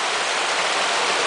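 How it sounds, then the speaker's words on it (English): Constant rushing wash of stream water foaming and frothing over rocks in a restored brook trout stream, a steady broadband roar with no voices. "where you see all that foaming, frothing,"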